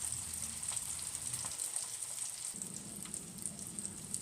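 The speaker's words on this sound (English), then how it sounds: "now it's time to toast the buns" Buns toast on a Blackstone griddle beside breakfast sausages, with a steady, even sizzle and hiss running the whole time at moderate loudness, no voices over it.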